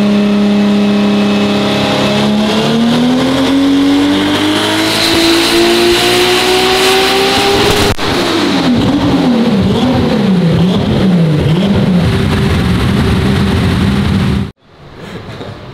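A loud tuned car engine climbs steadily in pitch as it revs hard into boost, bounces against the limiter with a pulsing, stuttering tone, then abruptly cuts off.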